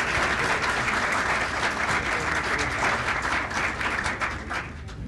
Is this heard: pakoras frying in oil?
no